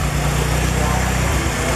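A Lada Niva with a 1.6 engine runs at a steady idle, loud and close, its low rhythmic throb holding unbroken throughout.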